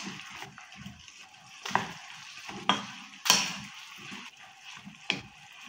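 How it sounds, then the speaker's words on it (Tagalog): A utensil stirs pakbet with eggplant and pork in a pan, making soft sizzling beneath a series of sharp scrapes and clacks against the pan at irregular intervals. "Halo-haloin lang ng bahagya guys."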